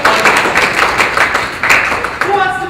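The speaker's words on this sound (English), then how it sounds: "round of applause" A small audience at a library conference session claps in a brief, close, fairly loud round of uneven claps, with a voice starting up just as it tails off.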